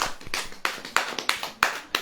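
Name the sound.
congregation clapping hands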